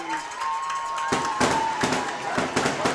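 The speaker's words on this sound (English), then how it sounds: "Got the fireworks up booming here." Fireworks booming over a high school football game in Prestonsburg, a run of sharp, loud bangs and crackles that echo across the stadium, with crowd noise and an announcer's voice beneath.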